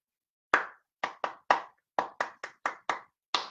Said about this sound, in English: Clap, then don't speak, then clap, then don't speak.